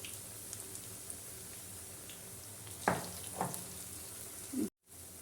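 Onion and lentil fritters (piaju) frying in hot oil give a steady, soft sizzle, with a couple of brief louder crackles as pieces go in, then a sudden cut to silence near the end.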